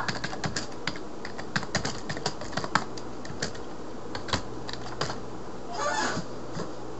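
Rapid, uneven clatter of keys on a computer keyboard, close and fairly loud, with bursts of quick strokes and brief pauses, no voices.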